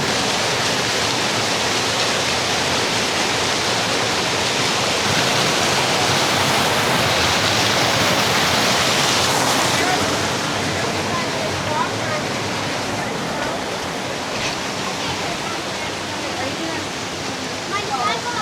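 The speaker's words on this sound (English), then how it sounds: "Now that we're at the waterfall, it's time to have a little bit of fun." A waterfall roars as a loud, continuous broadband rush close by, steady throughout with a slight drop in level partway through.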